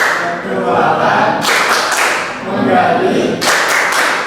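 A classroom of students claps a rhythmic chant pattern in a microteaching lesson, with bursts of sharp, loud claps arriving in two groups amid chanting voices.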